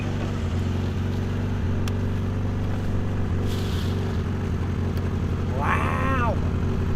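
A Honda Integra DB1 engine, misfiring and out of balance, runs steadily at idle with a low, uneven rumble that stays loud and constant throughout. A brief high squeal rises near the end.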